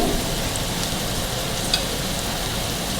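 Steady, loud sizzle of garlic paste frying in a pan, an even hiss of hot oil that continues without a break, with no voices.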